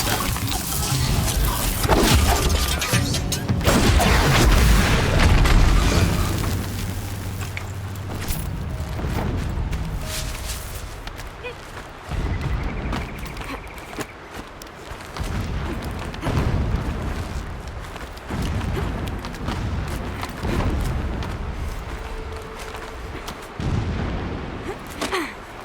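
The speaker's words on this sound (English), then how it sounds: "Explosions in the distance." Distant explosions in the video game Horizon Zero Dawn, a run of heavy booms and bursts rolling over a dense rumbling background, loudest early and thinning out later.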